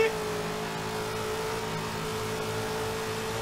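Mustang and Firebird racing in Forza Horizon 3, a steady sustained engine drone holding an even pitch throughout, fairly loud and continuous with no breaks.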